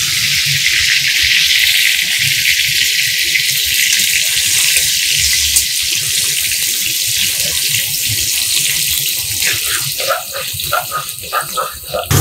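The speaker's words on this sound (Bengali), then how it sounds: "আমি এগুলো অল্প অল্প অল্প করে ভাজতে হবে" Lentil fritters (dal muth) frying in hot oil give a loud, continuous sizzling hiss close by, with crackling near the end.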